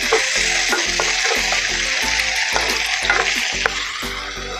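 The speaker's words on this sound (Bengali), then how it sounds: "পেঁয়াজ কুচি, পেঁয়াজটা হালকা করে ভেজে নিতে হবে।" Chopped onion sizzles steadily in a pan for a prawn dish, a dense continuous frying hiss broken by regular scraping stirs of a spatula, close and loud with no talking.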